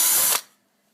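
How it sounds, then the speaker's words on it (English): A cordless drill with its clutch set drives a small screw into a NIStune Type 2 board installation, one short loud whirring burst about a third of a second long that stops abruptly, followed by near silence. "I like to use the cordless drill."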